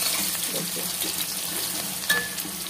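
Onion, ginger, garlic and green chillies fry in a pan for Bihari-style chicken curry, giving a steady close sizzle with light stirring scrapes and one brief sharp clink near the end.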